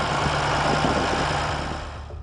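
A Ford 6000 tractor's engine of over 60 horsepower idles in a steady, loud mechanical drone, its level easing slightly toward the end.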